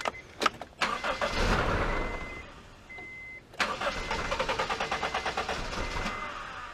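A Honda CR-V engine, just after a head gasket replacement, cranks a few times, catches briefly, then cranks again and settles into a rough, rhythmic running sound, fairly close by.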